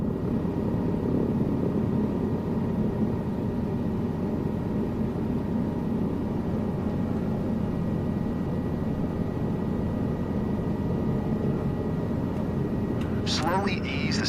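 A helicopter's engine and rotor drone steadily in a flight simulator game, a constant low mechanical rumble running the whole time beneath a voice giving instructions, with a short sharp clatter near the end.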